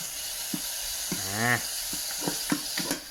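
Onions and shallots stir-frying in a pan for Japanese-style black soup shabu, a steady close sizzle with scattered scraping taps of a spatula and a brief hum-like vocal sound in the middle.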